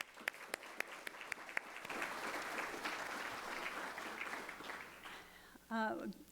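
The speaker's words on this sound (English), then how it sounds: "we can give her a round of applause" An audience at a spring awards ceremony breaks into applause after a few sharp individual claps, building into a sustained, moderately loud wash of clapping that tapers off before a brief burst of speech at the end.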